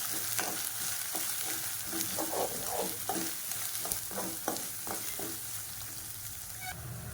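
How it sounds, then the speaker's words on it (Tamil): Garlic and onion fry and get stirred in a hot pan while cooking a crab gravy, with a steady sizzle throughout, broken by a series of scraping spatula strokes, and no talking. "இப்போ இந்த வெங்காயம் நல்லா வதங்கிடுச்சு"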